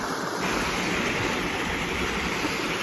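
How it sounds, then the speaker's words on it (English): A continuous roar from a waterfall reached on foot during a solo motorcycle camping trip, heard up close as a full, even rush of pouring water that fills the whole moment. "That's the waterfall."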